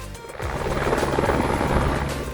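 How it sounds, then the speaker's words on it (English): A tour helicopter flying over Kauai and the Na Pali coast, its rotor and engine making a loud, steady, close whir throughout with no talking. "We also took an amazing tour on a helicopter."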